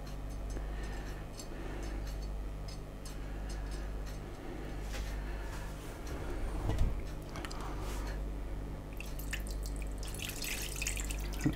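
Water trickling and dripping into a pot of pilaf (plov) being cooked at home, a soft, continuous pour with light splashes and irregular drips under a low background hum, no voices.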